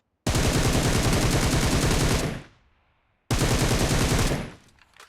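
Loud sustained bursts of rapid rifle fire from a shooting video game featuring a Groza and an M4, two long automatic volleys separated by a short silent gap.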